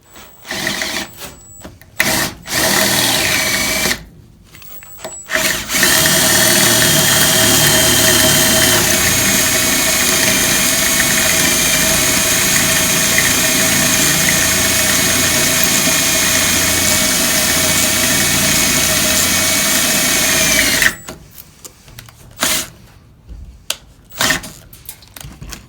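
A loud, steady drill whine runs for about fifteen seconds as a larger bit bores through steel, framed by short start-and-stop bursts at each end.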